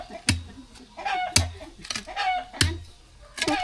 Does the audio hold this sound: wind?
no